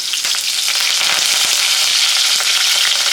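Mustard seeds, slit green chillies and curry leaves fry in hot oil, giving a loud, dense sizzle with quick popping crackles running through the whole stretch, with no voices.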